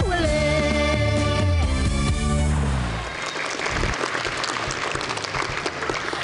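An audience at an elementary school event bursts into applause as music fades out, a broad crackle of many hands clapping that continues steadily to the end at moderate distance.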